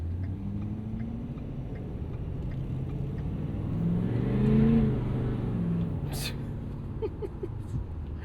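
A 2016 Ford F-350 Lariat Super Duty pickup with the 6.7 Powerstroke diesel, heard from inside as a low engine drone that swells briefly while accelerating, then settles back to a steady rumble.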